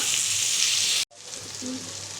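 Steady sizzling of potatoes sautéing with masala paste in a hot pan, briefly cutting out for a moment before the crackle returns at a similar level.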